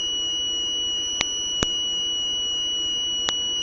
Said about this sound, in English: let's wait for the buzzer, how it functions.